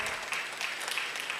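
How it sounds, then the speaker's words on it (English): A conference audience claps in a brief, even patter of applause, moderately distant and soft, with no voices over it. "We have to applaud him."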